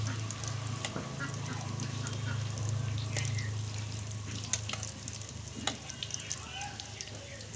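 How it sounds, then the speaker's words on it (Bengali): Egg cutlets shallow-fry over low heat, a steady soft sizzle with a low hum and a few light clicks and bubbling pops near the end, close and moderately quiet. "তো এইভাবে আমি উল্টো পাল্টো আকারে অল্প কম আঁচ জ্বালে ভেজে নেব।"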